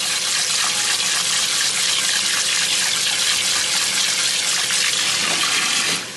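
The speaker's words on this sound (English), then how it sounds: "Cold water on the broccoli." Cold tap water runs onto broccoli in a steady, loud gushing stream that holds unchanged for several seconds before easing slightly at the very end, with no one talking.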